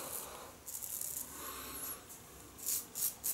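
A Gillette Slim adjustable safety razor scrapes through De Vergulde Hand shaving soap lather on skin, quiet close rasping strokes in short bursts, louder toward the end.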